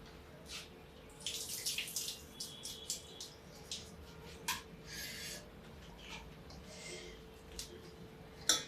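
Water drained off soaked arhar lentils into a vessel, faint intermittent splashes and trickles with small clinks over a quiet background hum.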